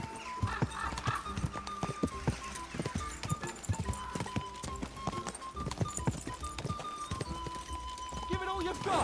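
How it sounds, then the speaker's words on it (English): Rapid rhythmic hoofbeats of a galloping horse in the video game Kingdom Come: Deliverance II, steady and close, with a brief whinny and urgent shouting voices over the top. "I've been riding this horse for way longer."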